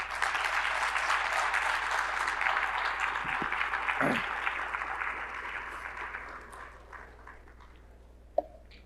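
An audience applauds steadily for several seconds before the clapping gradually thins out and fades, ending with one last isolated clap.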